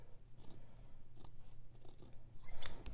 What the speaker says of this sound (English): we're actually just clipping off all of those ripples